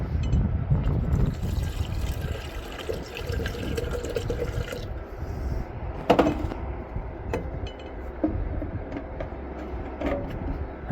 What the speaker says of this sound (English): I'm going to put in a bit more distilled water.